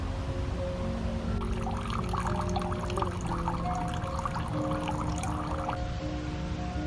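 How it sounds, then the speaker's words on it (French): Steady rushing water of a waterfall in Hirosaki, Japan, pours continuously throughout, a dense, even roar with a faint tonal hum underneath and no voices. "je suis juste au-dessus de la cascade. D'ailleurs, je pense qu'on entend le bruit"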